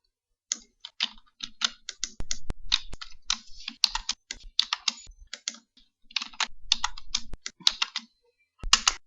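Rapid, uneven typing on a computer keyboard while programming accounting macros, with bursts of close, crisp key clicks broken by short pauses and occasional heavier thumps.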